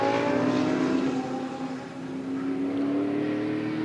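GT race cars drive at the Hungaroring, and a loud, sustained engine drone climbs steadily in pitch as the cars power down the start-finish straight.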